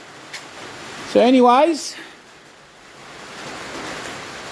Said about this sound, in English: You can hear it's raining